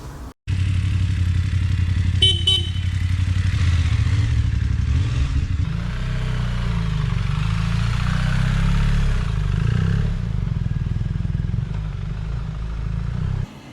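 A motorcycle fitted with Lone Rider Motolights rumbles steadily while riding, its engine droning loud and close for the whole stretch, with a brief clatter near the start and no talking.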